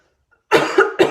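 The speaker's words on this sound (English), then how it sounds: "not allowed to cough at home" A person coughs indoors, two loud close coughs in quick succession after a moment of silence.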